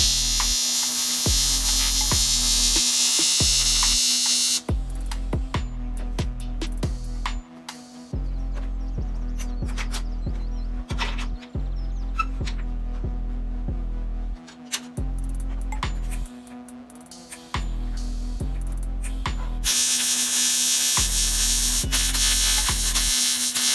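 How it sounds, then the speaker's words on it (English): Fusion welding a broken platform ladder, running a vertical-down bead: a steady electrical buzz and hum of the welding torch continues for about twenty seconds, with short breaks and a few faint clinks, no talk. "Now I'm fusion welding vertically down."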